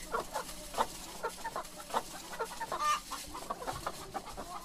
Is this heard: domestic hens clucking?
yes